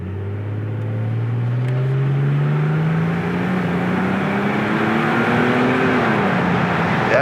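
A 2004 Porsche 911 Carrera Turbo accelerates hard, its engine note climbing steadily in pitch through a long pull before a brief drop as it shifts, loud and close, with wind and road noise beneath and no talking.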